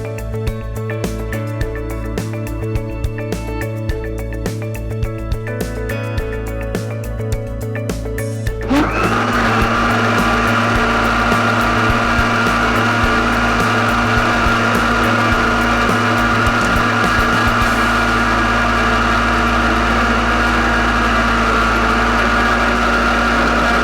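A mixer grinder blends cake batter for a vanilla dry fruit cake, first in short pulsed bursts, then settling into a loud, continuous motor whine with a steady buzzing hum.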